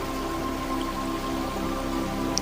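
Heavy rain falls as a steady, dense hiss that continues unbroken throughout, with a low droning tone sustained beneath it.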